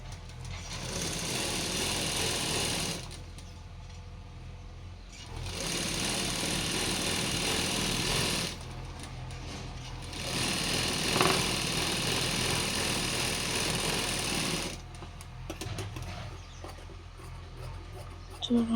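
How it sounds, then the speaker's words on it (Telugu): A sewing machine stitches a long frock in several bursts of fast, steady whirring, each a few seconds long, separated by short pauses with quieter handling sounds, close and moderately quiet. "మళ్ళీ ఇవి ఇట్లా రెండు కలిపి ఇటు రౌండ్గా ఇలా కుట్టుకోవాలి"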